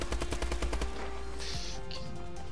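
Rapid automatic gunfire in Call of Duty: Advanced Warfare, a quick burst of repeated shots up front, then steady game ambience with fainter effects and no talking.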